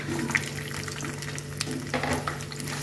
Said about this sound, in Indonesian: Setelah minyak panas kita masukkan jengkol yang sudah kita